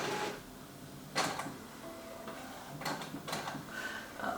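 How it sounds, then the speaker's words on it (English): An Epson ET-8550 inkjet printer pulls paper in with quiet ticking and clicking mechanical sounds, several sharp clacks spaced irregularly over a faint steady motor hum, close by in a quiet room. "There's the paper loading, hopefully for a somewhat better looking print"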